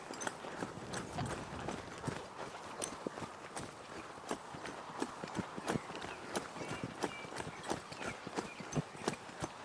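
A horse walks steadily through a barrel-racing training pattern, its hooves clip-clopping in an even, repeated rhythm that stays fairly close and clear throughout, with no talking over it.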